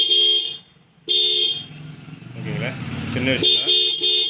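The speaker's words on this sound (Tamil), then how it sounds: "இல்லை நான் ஹார்ன் போடுறேன் பாருங்கள்." A motorbike horn sounds in loud, steady blasts after a wiring repair, cutting off briefly and then resuming while someone talks over it, with the horn returning strongly at the end.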